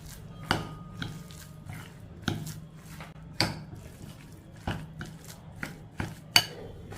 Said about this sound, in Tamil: இதை நல்லா மிக்ஸ் பண்ணிக்கிடுவோம்.